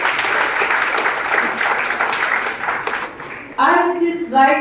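An audience at a school platinum jubilee inauguration claps for several seconds, a broad sustained patter that tapers off before a speaker resumes.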